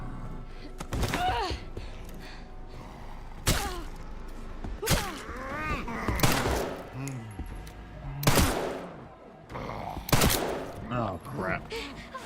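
Gunfire in the survival horror game Resident Evil Requiem: sharp, loud shots at irregular intervals, some in quick bursts, with a voice talking between them.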